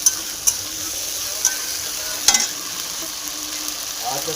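Masala spice paste fries in a pan with a steady low sizzle, broken by several sharp scraping clicks as it is stirred at irregular intervals.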